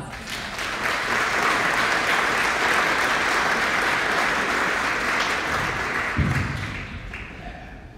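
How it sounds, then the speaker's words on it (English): An audience at a partnership luncheon applauds in a sustained, dense wash of clapping lasting several seconds, fairly loud and steady before tapering slightly at the end, with no speech over it. "Amelia and Raylan, let's give them a big round of applause"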